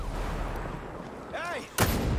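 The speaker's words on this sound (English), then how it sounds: "launching a grenade!" A grenade fired in Ghost Recon Breakpoint lands with a sudden, loud, broadband blast near the end, following a brief voice line over steady background rumble.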